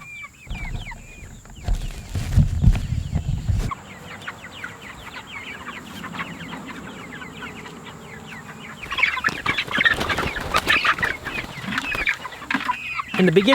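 Meat chickens cluck and chatter in a farmyard pen, a soft scattered murmur of calls that swells into a louder, busier flurry of clucking near the end.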